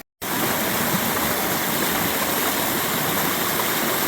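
A stream flows along a rainy hiking trail near Eagle Rock, a loud, steady broadband rush of water that fills the whole clip right after a brief silent start.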